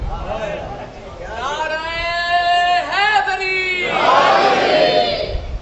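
A crowd at a Shia religious gathering chants a slogan: one strong voice calls out in long sustained tones, then a broad crowd roar answers near the end.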